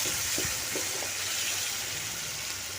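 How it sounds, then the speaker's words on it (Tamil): Ground chili paste goes into a pan of sautéing onions for a fish kuzhambu, raising a continuous frying hiss with a few soft early clinks and splashes, fairly close and without talk. "அந்த அரைச்சி வச்சுருக்க விழுது தூக்கி அப்படியே இந்த வெங்காயத்தை கூட கொட்டிடணும்"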